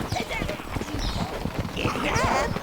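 Horse hooves clip-clopping in Overlord II, a quick uneven patter of hoofbeats with brief whinny-like tones, heard under a voice talking.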